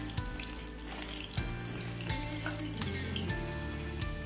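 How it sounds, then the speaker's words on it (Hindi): Onion pakoras fry in hot oil, giving a steady, dense sizzle with small bubbling pops throughout, close and continuous, with no talking. "एक साइड से हमारे पकौड़े हो गए हैं प्याज।"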